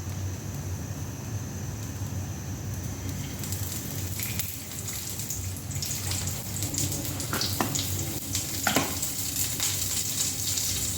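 Garlic fries in oil in a pan for minced-pork fried rice, giving a steady, moderately loud sizzle with a few scattered utensil clicks toward the end.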